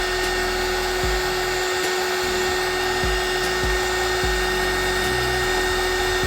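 A hot air tool blows onto melting candle wax, producing a constant loud whirring blower tone with a high whine and faint periodic pulses, and no one speaking.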